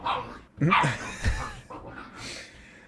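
Dogs barking and yipping in the background of an indoor conversation, a few sharp energetic barks with some whimpering and breathing, close and fairly loud, mixed with people talking.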